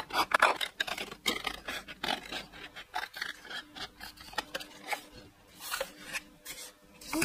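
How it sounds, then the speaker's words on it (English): Scissors snip through pattern paper for a scrapbook layout, a close series of crisp cuts and rustling paper scrapes in an irregular rhythm, with no talking. "now I will cut my pattern paper"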